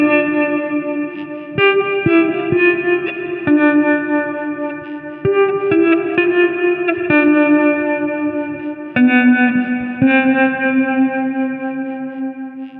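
Electric guitar with an all-plastic body playing sustained chords and picked notes through chorus and echo effects, its tone shifting as the picking position changes, close and alone.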